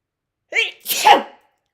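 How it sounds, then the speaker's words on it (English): A single loud sneeze, a sharp intake followed by a burst, close up and alone. "I'm going to sneeze again."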